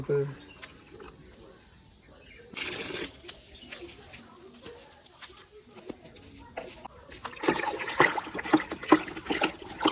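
Homemade leaf fertilizer liquid is strained through a sieve, making soft trickling and splashing bursts that grow busier toward the end while people talk nearby.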